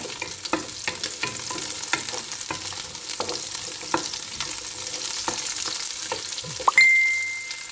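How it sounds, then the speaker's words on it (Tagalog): Onion sizzles in a hot pan for a Coke chicken adobo, a bright continuous crackle with frequent light taps of a utensil, ending with a short clear ringing tone. "Tapos dahil mainit na siya, ilalagay na natin yung onion muna."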